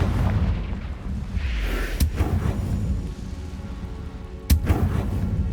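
In Hogwarts Legacy, Confringo explosion spells land as two sharp, booming blasts about two and a half seconds apart, set against rumbling game ambience with no talk.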